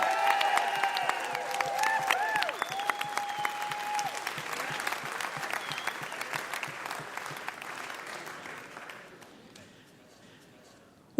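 Live concert audience giving applause for a performer, steady dense clapping with some cheers that gradually fades out toward the end.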